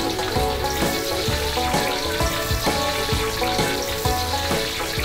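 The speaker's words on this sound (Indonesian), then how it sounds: "Kita goreng dulu sampai garing." Tofu meatballs deep-frying in hot oil until crispy, a steady loud sizzle with crackling bursts and occasional stirring clatter throughout, no talking.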